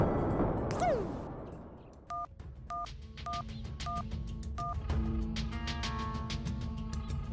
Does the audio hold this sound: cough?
no